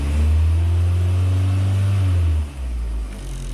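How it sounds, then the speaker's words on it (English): A Chevrolet Sonic with a P0420 fault code revving up: a loud, close, sustained engine roar holding steady for about two seconds before dropping back to a lower idle. "Rev it up."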